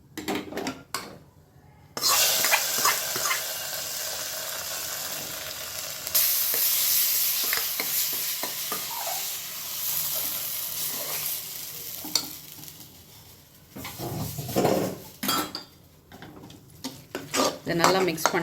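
Cooked rice being stirred into a pot of rasam tempered with mustard seeds, curry leaves and asafoetida, a spoon scraping and clinking against the metal pot over a low sizzle, loud and close with occasional pauses.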